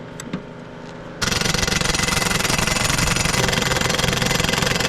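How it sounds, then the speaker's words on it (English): A pressure washer engine on a farm starts up after a quiet moment and keeps running steadily, a loud, even mechanical drone close by. "Joey's out there giving a big smoke with the pressure washer"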